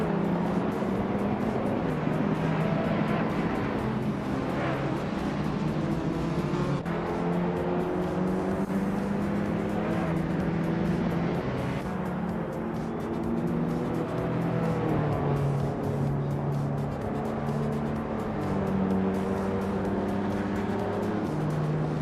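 Engines of race cars in a video game drone and whine continuously as several cars run close together, pitches rising and falling as they overtake, steady and loud with no pauses.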